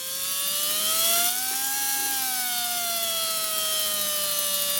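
The small electric motor of a 1950s Hornby Dublo model locomotive chassis runs with a thin, high whine. The pitch rises briefly as the power increases, then holds steady.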